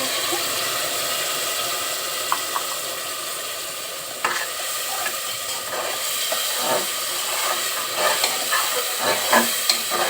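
Spices sautéing in a pan for wedding-style mung dal with potatoes, with a cup of hot water added: a steady close sizzle with sharp spoon scrapes and stirring clatters that grow busier toward the end.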